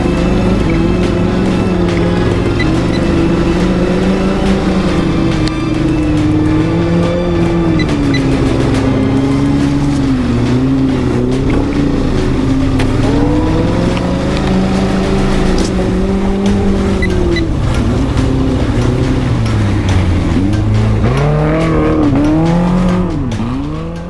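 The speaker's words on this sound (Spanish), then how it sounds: "Viene otro coche pidiendo paso" Rally car at Hellas 2023 driving through thick mud, its engine roaring loud and close the whole time, pitch rising and falling with revs and gear changes, with occasional wheel spin and skidding noise.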